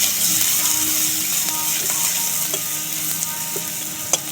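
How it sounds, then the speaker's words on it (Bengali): Garlic paste and black cumin seeds sizzle in hot oil in a home kitchen, a steady close crackling fry with a few sharp pops and occasional utensil clicks, no voices. "এবারে ওই তেলে দিয়ে দেবো একটু রসুন বাটা আর দিয়ে দেবো একটু কালো জিরে, দিয়ে ফোড়ন করব"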